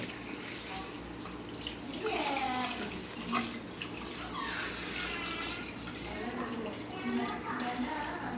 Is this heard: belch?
no